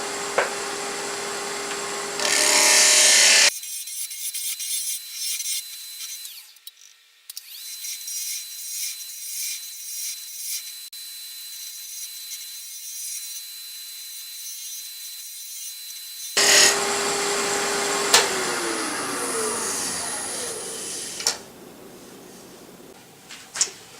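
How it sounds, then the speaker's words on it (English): Rasping sanding on the bottom of a wooden box in bursts, loud and close, with a long quiet gap in the middle before the scraping strokes start again. "all done with sanding the bottom here"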